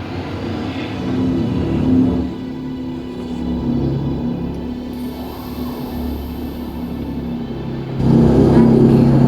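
Deep engine rumble and rising whine of a spaceship launching in Star Citizen, a loud sustained drone that swells again near the end, with no talk over it.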